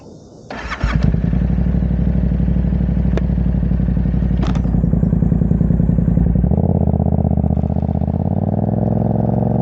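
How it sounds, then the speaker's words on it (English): A motorcycle engine starts up, then revs hard and loud through a clutch-up wheelie, holding a strong steady roar before the pitch drops and settles near the end, with no talk over it. "I'm going to go ahead and show you guys a few clutch up wheelies"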